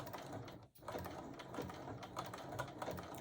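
Sewing machine working a blanket stitch around the outside line of a quilted mug rug, a dense continuous mechanical whir and clatter, close and steady with one brief break.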